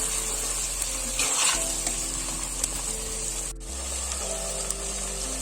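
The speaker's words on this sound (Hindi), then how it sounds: "चिकन और प्याज हमारा जो है वो फ्राई हो रहा है" Chicken pieces and onions frying in a karahi for spicy chicken karahi, with a steady close sizzle and occasional stirring clinks running throughout.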